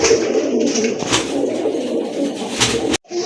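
Pigeons cooing steadily at a busy pigeon market in Bangladesh, with black checker birds on sale, a dense layer of overlapping coos and flutters that cuts off abruptly near the end.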